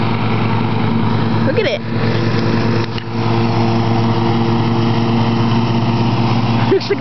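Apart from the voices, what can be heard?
tractor engine running while riding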